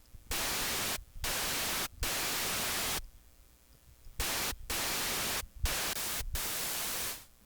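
Harsh synthesized noise from a noise oscillator FM-modulating another oscillator in the Serum synth hisses in loud bursts that cut in and out abruptly, separated by short quieter gaps with a low hum.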